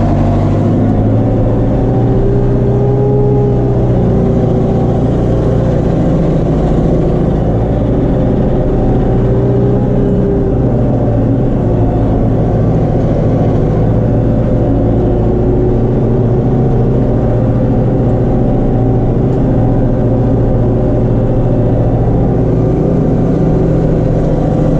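A Case JX110 tractor ploughing a wheat field, its engine droning loud and steady at close range for the whole stretch, with slight shifts in pitch under load and no voices.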